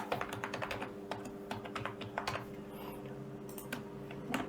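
A computer keyboard is tapped in quick, irregular bursts of light clicks while a CAPTCHA is entered on a visa appointment site, quiet and close with a faint steady hum underneath.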